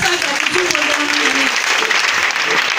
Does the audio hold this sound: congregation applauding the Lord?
yes